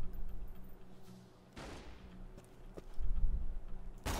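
Scattered gunshots from the shooter video game Borderlands 2, a few quiet distant bursts and single cracks separated by pauses, ending in a sharper shot over low background game noise.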